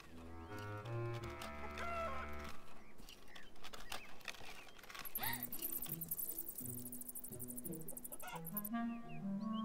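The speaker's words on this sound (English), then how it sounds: "One chicken in it." A chicken in a coop in the video game Beyond Eyes, faint intermittent clucks over soft tonal background music and farmyard ambience.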